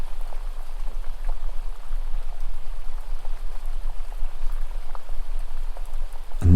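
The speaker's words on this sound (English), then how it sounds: "they begin to hear the distant sound of running water" Water runs down a meadow stream with a steady, soft rushing and bubbling that fills the whole stretch at an even level, with no voices heard.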